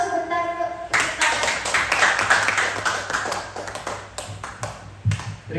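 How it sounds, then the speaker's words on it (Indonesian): At an Indonesian teachers' dissemination event in West Java, a seated audience gives a short round of clapping after a tone-like chime, uneven and fading across several seconds while a voice speaks over it. "Oke, beli aplaus sebentar yuk."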